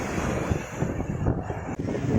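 Strong sea waves at Jomtien beach roll in as a continuous, rushing roar of surf mixed with heavy wind buffeting the microphone.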